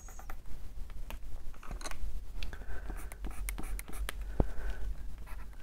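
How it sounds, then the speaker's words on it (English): Pencil writing on Flashe paint, a soft dry scratching with irregular strokes and light taps, quiet and close. "Definitely takes pencil rather nicely."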